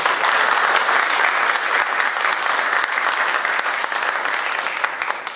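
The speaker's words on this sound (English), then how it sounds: "round of applause?" Steady, dense applause from a sizable crowd at an infrastructure event in Waterloo, loud and continuous throughout with no voices standing out.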